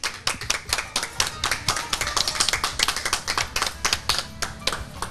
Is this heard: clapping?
yes